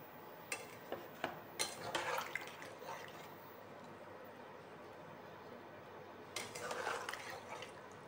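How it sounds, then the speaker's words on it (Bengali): Fried rui fish roe poured into a pan of potato kalia curry: faint wet plops and soft scraping clatter come in short clusters near the start and again toward the end, with quiet gaps between. "নিয়ে এবার আমি ভাজা ডিমগুলোকে এর মধ্যে ঢেলে দিচ্ছি।"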